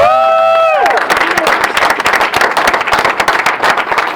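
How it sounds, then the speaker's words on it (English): A live audience breaks into a loud round of applause and cheering at a presentation, dense clapping and crowd noise filling the room after a brief sustained tone at the start. "can you give him a round of applause?"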